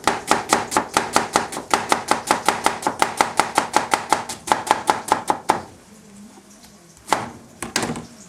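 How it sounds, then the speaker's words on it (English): A knife finely chops an onion on a board, steady rapid strokes for several seconds, then stops, followed by a couple of scattered knocks. "we take about half an onion, like that, and you want to chop it really finely."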